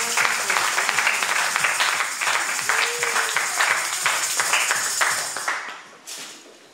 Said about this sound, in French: Acclamons pour les rois de rois